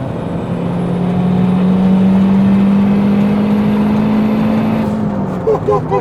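Stripped-out turbocharged Honda Civic with a bonnet-exit wastegate, heard from inside the cabin as a loud, steady engine drone that builds and holds before easing off, with brief voices at the end.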